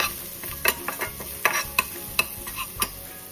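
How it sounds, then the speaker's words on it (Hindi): A spoon stirs turmeric and spices in a pan for lemon rice, making a string of distinct scraping and tapping strokes. A faint sizzle sits underneath and no voice is heard. "थोड़ा सा हिला लीजिए।"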